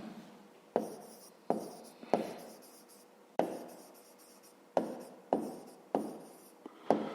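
A pen writes on paper in short, quiet, close strokes, about nine separate bursts of scratching with brief gaps between them.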